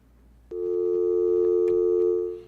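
A telephone line tone sounds on a radio call-in line after the caller drops: one steady electronic tone of about two seconds that starts abruptly and plays alone.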